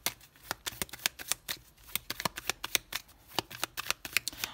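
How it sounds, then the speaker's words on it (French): Tarot cards handled and laid down during a reading, producing quick, crisp flicks and slaps in a rapid, irregular series, soft and close, with no voice. "On va recouvrir la carte du monde."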